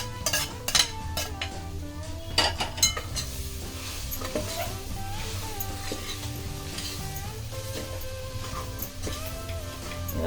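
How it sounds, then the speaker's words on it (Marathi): Mushrooms sizzle in hot oil with masala tempering while a spoon scrapes and stirs the pan repeatedly, with occasional metal clinks of utensils and steady frying underneath. "आता अळंबी फोडणी घालून घेऊया।"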